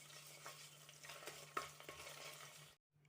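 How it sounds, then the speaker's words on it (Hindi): Garlic paste sizzles softly in a hot pan while being stirred, a quiet, steady frying hiss with a few scraping strokes, then cutting off abruptly, no voices. "गार्लिक पेस्ट को हम अच्छे से सॉटे कर लेंगे।"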